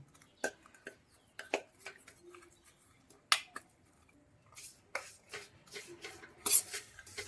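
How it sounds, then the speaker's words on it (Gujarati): Ghee and jaggery are stirred with a spoon in a bowl, making scattered metallic clinks and scraping taps at an uneven rhythm, close and fairly quiet. "હવે એને આપણે બરાબર હલાવતા રહીશું"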